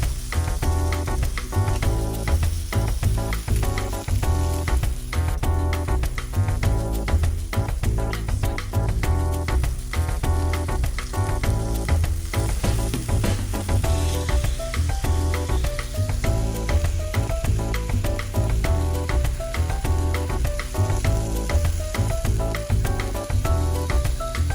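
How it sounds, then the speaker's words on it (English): Pieces of Atlantic salmon fry in hot oil in a pan, giving a steady, loud, continuous sizzle and crackle with no pauses. "our salmon is finishing cooking on the second side"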